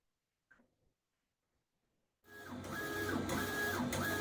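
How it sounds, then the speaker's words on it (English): A Procolored DTF printer starts up after a short silence and then prints steadily, a loud continuous mechanical whir with repeated sweeping print-head passes and rising and falling motor tones. "Okay, so it is now printing."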